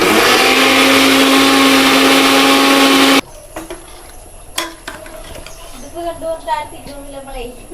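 A mixer grinder grinding coconut and cumin whirs loudly and steadily for about three seconds, then cuts off abruptly, leaving faint kitchen clatter and quiet movement.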